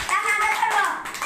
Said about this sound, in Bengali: সবাই সায়নের জন্য হাততালি দাও